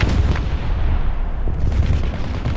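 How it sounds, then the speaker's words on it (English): Artillery strike in War Thunder: a dense, continuous barrage of heavy booms and cracking gunfire rolls on steadily, loud and close, with no voices. "So let's send artillery there."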